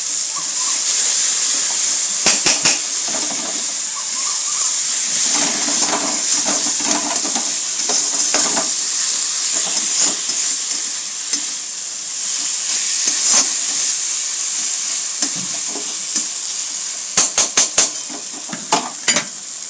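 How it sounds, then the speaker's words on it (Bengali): A spice paste with onion and tomato fries in a pan for a Bengali bhola fish curry, giving a loud, continuous sizzle and steamy hiss, while a spoon scrapes and stirs in repeated bursts throughout. "এই মশলাটা কষা হচ্ছে পেঁয়াজ টমেটো দিয়ে।"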